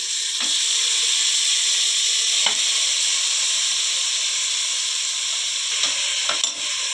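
Onions frying in a pan for radish sambar, making a loud continuous sizzle broken by a few brief scraping stirs near the end.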